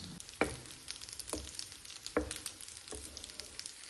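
Chicken kebabs fry in hot oil over a medium flame, a steady crackling sizzle with several louder spatter bursts roughly every second, close and continuous with no voices.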